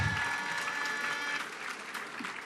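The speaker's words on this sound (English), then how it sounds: "Give them another round of applause." Audience applause at a gala held at the Halls of St George: dense, continuous clapping from a large crowd, steady and fairly loud throughout, easing slightly toward the end.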